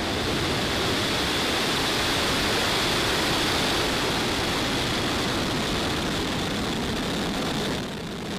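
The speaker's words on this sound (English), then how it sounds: "Ignition and liftoff." Falcon 9 rocket lifting off on a Starlink launch, a steady, dense broadband roar that holds loud and unbroken throughout, easing slightly at the very end.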